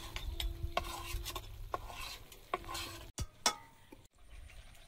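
Fish goes into a pan with pumpkin vegetables, bringing a faint sizzle under repeated stirring scrapes and a few light metallic clinks of a utensil against the pan, with brief pauses.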